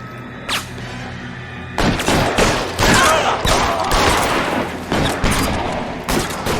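Gunfire in the 1940s Los Angeles detective game L.A. Noire during a shootout with a car-theft gang: a lone shot, then dense, rapid volleys of close pistol and rifle fire with heavy thumps, continuous and loud.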